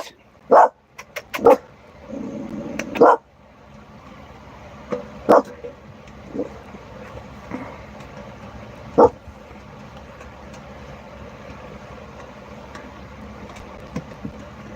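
A dog barks in short, sharp bursts: a quick cluster of loud barks at the start, then scattered single barks spaced several seconds apart over a quieter background.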